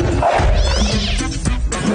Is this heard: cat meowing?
yes